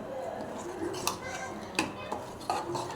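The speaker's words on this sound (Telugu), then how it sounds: "పప్పు గోంగూర కలుపుకుందామండి" Lentils and gongura leaves being stirred together in a metal pot, with repeated scraping clinks of a spoon against the pot over a low kitchen background.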